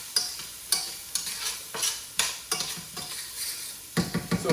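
Onion frying in a pan for tacos, sizzling steadily while a utensil scrapes and stirs it in repeated strokes, close and clear, with no voices.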